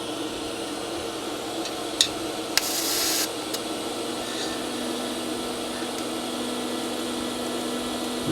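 R Tech TIG 160FPP welder running a pulsed TIG arc at 250 pulses per second, a quiet, steady electrical buzz with a few sharp crackles and a brief hiss early on.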